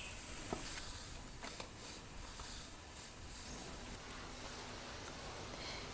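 Umac dough pieces frying in hot oil for halva, cooked outdoors: a steady, faint sizzling hiss with light crackles and stirring rustles throughout, no voices.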